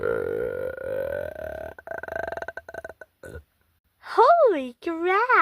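Cartoon characters in a burping contest let out long, loud, warbling burps that rise and fall in pitch, broken up by short stuttering bursts and brief pauses.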